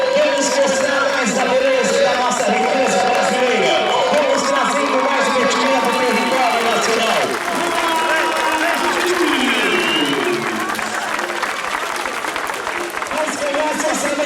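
Large crowd at an indigenous sports competition in Brazil, with loud sustained cheering and applause filling the whole stretch, dense and close, voices shouting throughout.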